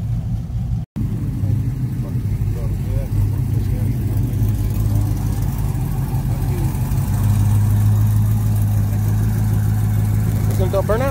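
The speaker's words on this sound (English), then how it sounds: "¿Estás haciendo un burnout?" A truck at a meet idles and revs with a steady, loud engine rumble throughout, a brief dropout near the start, and people talking over it.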